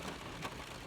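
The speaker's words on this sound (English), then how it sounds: "the rain is loud" Loud, steady rain hisses continuously across the whole moment, a dense broadband wash with no pauses or voices.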